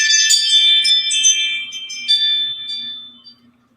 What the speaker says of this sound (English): That's my Ring doorbell, y'all.